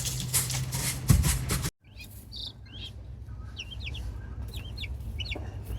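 Chicks newly hatched on a farm in January, a steady close chorus of high peeping chirps with occasional clucks under constant low background hum, no talking.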